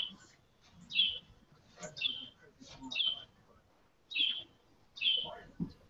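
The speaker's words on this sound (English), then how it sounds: "I'm gonna have to kill that bird now" A bird chirps indoors in short, bright calls about once a second, fairly quiet and close, over a faint room background.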